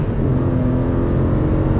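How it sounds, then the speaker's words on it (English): An Audi R8 engine pulls at full throttle on a track, a steady loud in-car roar with a low growl and a slowly rising tone. "roll onto the throttle as you unwind. Go to full throttle."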